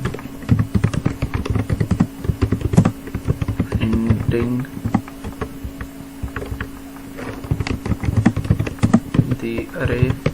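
Rapid clicky keystrokes on a computer keyboard while code is being written, an irregular run of close taps with a person talking over them.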